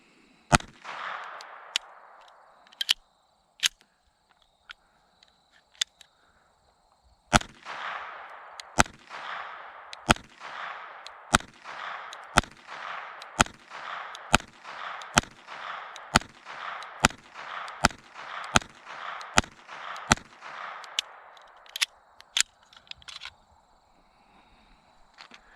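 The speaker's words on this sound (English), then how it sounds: "Let's do some shooting and see how it does." GSG 1911 pistol fired with Federal ammunition at a shooting range, sharp close cracks with echoing tails, a few spaced shots first, then a long string of evenly timed rapid shots, then a couple more.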